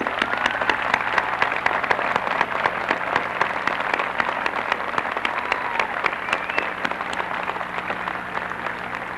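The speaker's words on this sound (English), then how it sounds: "congratulate your graduates now with a good applause." Audience at a 1992 university commencement ceremony applauds, a dense, steady wash of many hands clapping at close range, sustained without pause.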